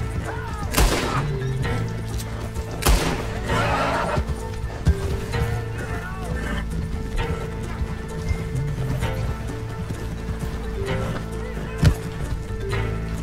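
A horse in the video game Red Dead Online neighs loudly twice amid hoof clip-clop and scattered thumps, with in-game ambience and occasional sharp cracks throughout.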